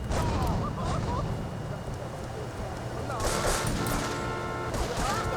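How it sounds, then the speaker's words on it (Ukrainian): Rapid bursts of gunfire crackle almost continuously, with explosive impacts, in a loud, busy battle scene from the video game GTA III. "Зараза вони по мені почали стріляти."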